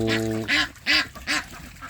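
A female duck quacks loudly several times in quick succession, harsh nasal calls close by with no one speaking.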